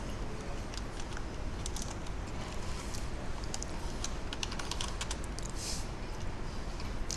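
Computer keyboard typing out a short piece of HTML code, a dense, steady run of rapid key clicks with no pauses, fairly close and alone without any talking.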